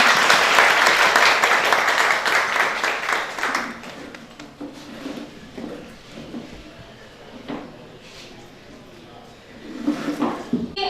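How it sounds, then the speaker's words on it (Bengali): Audience applause rises loudly to welcome a guest at a Human Rights Day stage event, then thins into scattered claps and ends with a short renewed burst. "আমরা স্যারকে করতালির মাধ্যমে বরণ করে নেই।"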